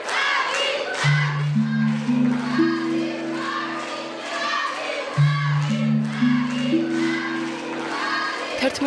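A crowd of parents protesting outside a school in Rustavi chants and shouts in a dense, continuous roar, while a sustained stepped musical drone plays over it in two rising sequences.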